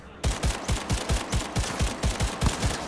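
An automatic smart pistol in Cyberpunk 2077 fires a fast, steady burst of about a dozen evenly spaced punchy shots, loud and close, with no speech over it.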